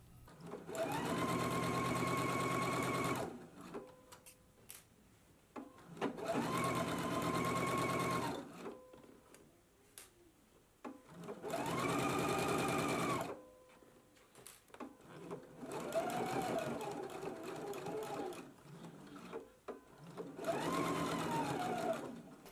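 A sewing machine stitches a jumpsuit bodice to the pants in five long bursts of steady, fast needle chatter, each lasting a few seconds, separated by short pauses with small handling clicks.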